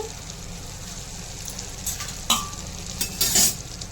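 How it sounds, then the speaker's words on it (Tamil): Butter melts in a hot pan with a soft, even sizzle, broken late by a few sharper crackles and spits. It is close-up, with no talk. "பட்டர் கா உருகட்டும் பட்டர் உருகுது இப்போ"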